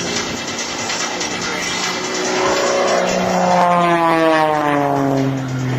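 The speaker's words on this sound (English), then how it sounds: "rolls that airplane all the way down the show line" An Extra 300 aerobatic airplane performs at a military air base open house air show, its propeller engine roaring loudly, then sweeping into a falling, Doppler-like whine as it passes and rolls down the show line.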